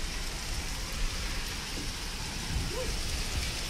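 Continuous rainfall, a dense even hiss of drops on surfaces with a faint low rumble underneath, steady and close.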